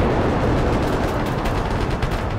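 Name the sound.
gunfire in a trench assault video game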